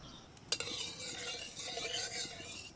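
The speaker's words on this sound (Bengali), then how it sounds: "প্রথমে ডালের বড়িগুলো দিয়ে ভেজে নেব।" A sharp clink of utensils, then a soft sizzle of lentil dumplings frying in oil with light stirring, quiet and close.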